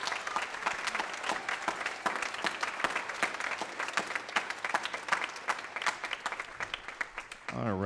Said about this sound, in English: How about one more round of applause for all of our festival participants?